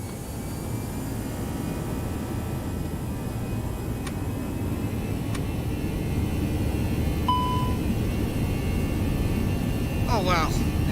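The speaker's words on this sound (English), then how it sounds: "Let's get the throttles going." Airbus A319 engines in a flight simulator game building to a steady, broad rumbling roar that holds throughout, with faint clicks and tones from the cockpit.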